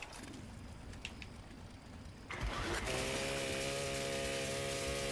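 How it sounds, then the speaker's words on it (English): A chainsaw weapon in the video game Fallout 76 kicks in midway, rising from background ambience into a loud, steady buzzing engine drone that holds to the end. "Oh yeah, it's like the chainsaw."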